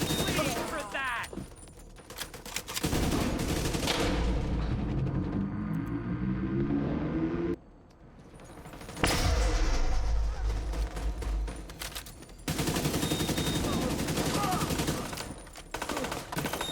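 Heavy automatic gunfire in a shooter video game, long loud bursts broken by brief lulls, dense and close, with a game voice and other sounds mixed in, ending in a headshot.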